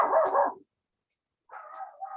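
A couple of dogs barking somewhere in the background of an indoor seminar on donkey enrichment: a short burst of barks, a pause, then more barking, fairly faint and distant.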